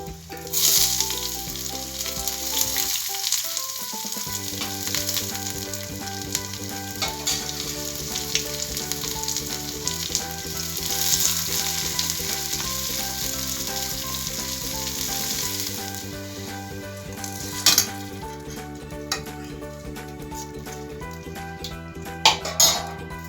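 Dried chilies, curry leaves and three shallots frying in coconut oil for a Kerala fish curry, a steady close sizzle with occasional stirring and pan clinks, over background music.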